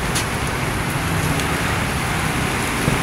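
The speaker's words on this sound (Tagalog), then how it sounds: "Rain, rain, go away." Rain falling on a Monday, a dense, steady close hiss that stays loud and even throughout, with no voices.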